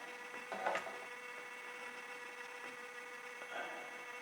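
A small model railway locomotive motor running in reverse gives a faint, steady whine over a low room hum, with a couple of soft knocks, and no voices.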